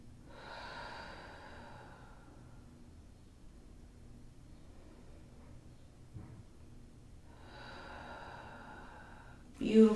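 Two deep breaths, each drawn in through the nose and let out through an open mouth during a beginner home yoga session. They come as soft, airy rushes near the start and end, with a quiet gap between them and a brief bump at the close.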